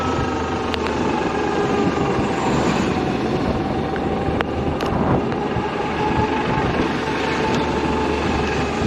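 Heavy wind buffeting the microphone while riding a Zero electric motorcycle, a loud constant roar and rumble throughout with a few faint clicks and no engine note.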